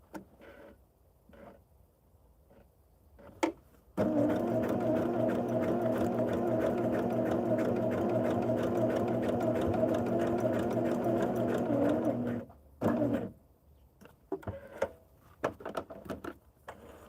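Sewing machine stitching the strips of a twisted log cabin quilt block, running in one loud steady burst of about eight seconds, with short starts and handling noises before and after.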